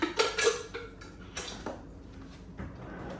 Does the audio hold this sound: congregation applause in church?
no